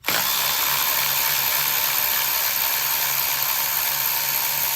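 A power tool runs continuously while unbolting the ignition coil on a Ford Explorer's 4.6L 3V engine, a steady whirring drone that is loud and close, with no talk.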